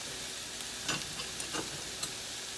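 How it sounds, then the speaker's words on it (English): Bulk sausage browning in a pan gives a steady, fairly quiet broadband sizzle with a few soft clicks and scrapes, and nobody is talking. "while the sausage was cooking"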